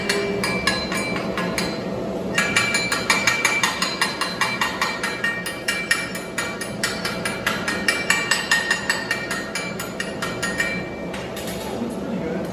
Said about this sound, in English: So I'm going to chip it off carefully.